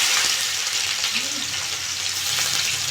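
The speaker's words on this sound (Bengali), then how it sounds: "তেলটা গরম হয়ে গেছে, আমি পেঁয়াজ দিয়ে দেবো" Sliced onions hit hot oil in a wok, giving a loud, dense, continuous sizzle that holds steady throughout with no talking over it.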